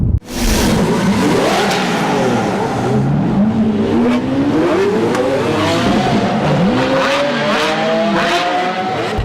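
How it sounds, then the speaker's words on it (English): A 2018 McLaren 570S Spider sports car engine revs and accelerates continuously and loudly, with rising and falling gear pitch sweeps and occasional tire squeal, close to the microphone and without speech. "Meet Agent Smiley, 2018 McLaren 570S Spider."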